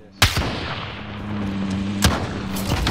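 A bouncing Betty mine detonates in Call of Duty Warzone: a sharp loud blast with booming rumble, followed by a second explosive crack and lingering gunfire-like echoes.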